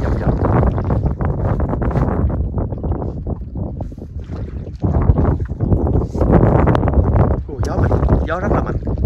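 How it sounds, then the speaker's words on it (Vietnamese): Strong wind roars through the Bàu Cá Cái mangrove forest, buffeting the microphone in steady loud gusts alongside boat noise, while people talk throughout. "Gió rất là mạnh."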